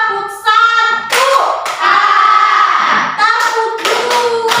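Children in a classroom clap their hands together in a counted rhythmic pattern. The claps sound as sharp bursts mixed with loud, continuous chanting voices.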